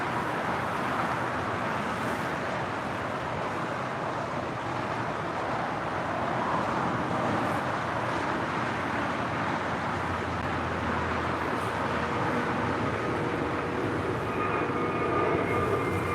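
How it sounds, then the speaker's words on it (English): An American Airlines Boeing 787-8 Dreamliner arriving at LAX gives a steady, broad jet roar that holds at an even level throughout, with no speech over it. "That is American Airlines Flight 566 coming in from Philadelphia on that 787-8 Dreamliner"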